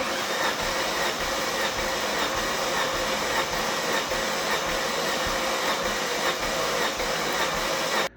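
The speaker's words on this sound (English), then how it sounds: "since this gauge is letting out the air, you can see that" Air hissing steadily out of an engine compression test gauge on an Alfa Romeo 166 Busso turbo V6, a continuous close, even rushing hiss that cuts off abruptly at the end.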